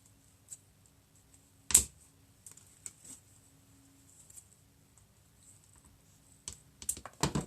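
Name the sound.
scissors cutting knobs off a sunflower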